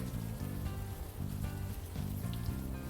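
Steady rain pattering on surfaces in a city scene of the adventure game Unavowed, a constant wash running under a looping low melodic music bed, with no talk.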